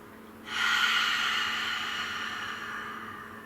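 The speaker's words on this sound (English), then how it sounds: "Inhale through the nose and exhale through the mouth." A long, steady breath during controlled pranayama practice, one continuous airy rush that starts abruptly and slowly fades, close and fairly loud, with no talking over it.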